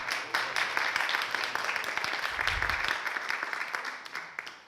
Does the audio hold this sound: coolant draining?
no